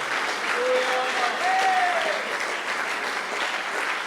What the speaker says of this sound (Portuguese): As palmas bem fortes, louvando ao Senhor.